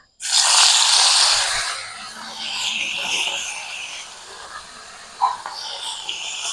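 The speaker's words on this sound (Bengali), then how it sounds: "এবার তেলের মধ্যে আমি একে একে মাছগুলো দিয়ে দেবো।" Rohu fish pieces hit hot oil in a small wok, setting off a loud burst of hissing sizzle that eases into a steady fry with a brief spatter near the end.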